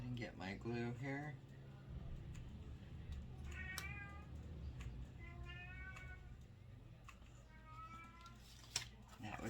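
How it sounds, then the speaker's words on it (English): A pet cat meows repeatedly in a room where glue crafts are being made, several clear, fairly close mews rising over steady background hum, with someone talking briefly at the start. "That would be my cat, you hear?"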